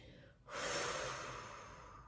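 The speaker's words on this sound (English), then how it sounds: "Stay right here and take a couple of deep breaths" A single deep inhale followed by a long, slowly fading exhale, close and soft, taken while resting in a Pilates child's pose stretch on a mat.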